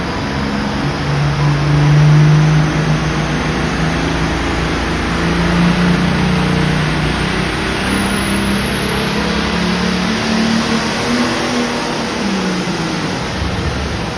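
A John Deere tractor engine revs at a tractor pull, a loud, steady mechanical roar with a rumbling low drone that swells slightly near the start, set against constant arena noise.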